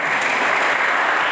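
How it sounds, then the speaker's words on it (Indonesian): A church congregation claps for a member, giving a brief, dense, even burst of applause that carries on throughout at a steady level. "tepuk tangan untuk Mas Tito."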